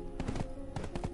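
Hooves of a ridden horse clop in a video game, two quick clusters of rhythmic taps separated by a short gap over a soft tonal game background.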